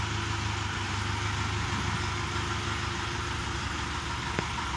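A 40-horsepower Dongfeng tractor with a reverse gearbox idles steadily nearby, its engine holding an even, continuous drone with a low hum throughout and no speech.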